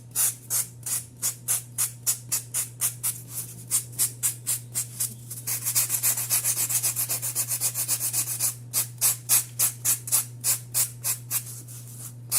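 Sandpaper rubbing a styrofoam base for a polymer clay Funko Pop figure, with quick, even back-and-forth strokes and a steady low hum underneath; the rhythm pauses briefly into faster scrubbing midway.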